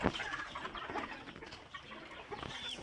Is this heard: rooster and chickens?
yes